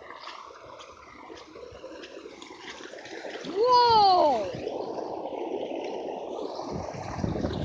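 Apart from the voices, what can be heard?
dirty orange water flowing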